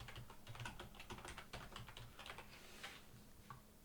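Rapid keystrokes on a computer keyboard in a quiet room, a dense run of light clicks entering a song title into a search field, with no talking.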